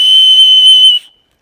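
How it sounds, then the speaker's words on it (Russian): A handmade herbal whistle gives one loud, steady, pure high tone held for about a second before cutting off abruptly, close and alone. "Да, вот этот свисток"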